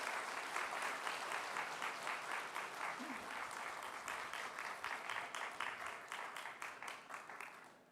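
A church congregation at a summer revival service applauds to welcome a pastor, a dense, even wash of clapping from many hands that holds steady for several seconds and slowly fades, heard from some distance.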